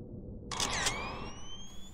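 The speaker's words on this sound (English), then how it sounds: "Push the shutter." A single camera shutter fires in a quick double burst of crisp clicks, fairly close, followed by a thin whine that rises in pitch. Otherwise the room is quiet.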